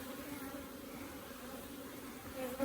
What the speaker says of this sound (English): you've got bees in the feeder